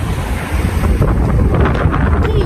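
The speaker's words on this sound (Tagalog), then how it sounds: "Grabe yung lakas ng hangin." Strong wind roars and buffets the microphone continuously, loud and broadband, with no voices.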